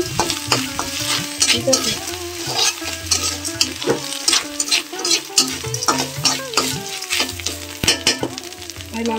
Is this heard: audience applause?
no